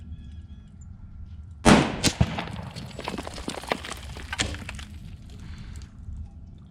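A .25 Creedmoor rifle on a Curtis action fires a 133-grain Berger bullet, one sharp loud crack followed by a short rattling echo that fades over a few seconds.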